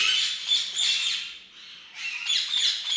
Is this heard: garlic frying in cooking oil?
no